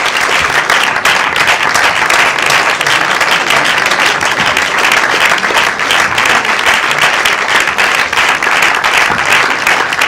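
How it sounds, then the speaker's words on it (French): A theatre audience at a preview screening in La Rochelle gives loud, sustained applause, dense overlapping clapping that holds steady throughout without letting up. "Puis les applaudissements bien fort."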